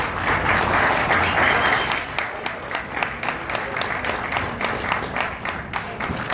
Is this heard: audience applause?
yes